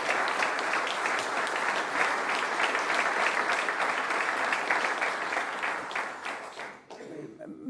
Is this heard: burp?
no